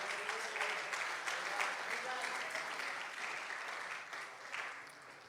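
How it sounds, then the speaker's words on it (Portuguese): A church congregation claps together during a Portuguese-language worship service, a steady, dense wash of handclaps that carries on for several seconds, with voices mixed in beneath. "Bate as palmas para Jesus."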